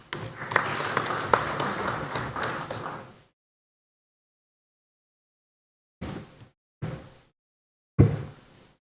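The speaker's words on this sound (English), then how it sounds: "Warm round of applause for him." A seated audience at an aviation week conference gives a round of applause for the regional director, a dense clatter of clapping lasting about three seconds. It stops abruptly, then three short clipped bursts of sound follow after a silent gap.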